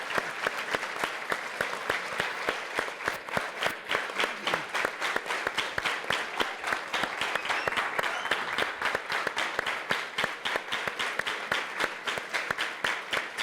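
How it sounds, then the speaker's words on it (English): Round of audience applause at a Boise State legislative roundtable, a steady, moderately distant patter of many hands clapping continuously throughout with no voices over it. "How about one more round of applause?"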